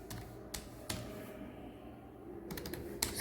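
Computer keyboard typing in short clustered bursts of key taps, moderately quiet and close, with brief pauses between runs and no voices.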